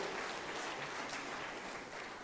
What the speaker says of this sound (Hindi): आजीविका मिशन की बहनों का तालियां बजा के स्वागत करें